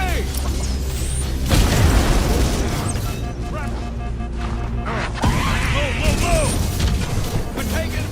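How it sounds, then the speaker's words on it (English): A grenade blast in the Halo shooter game, heard as a loud low boom followed by crackling debris and gunfire, with a second burst later; voices talk over the chaotic combat. "Look out, grenade!"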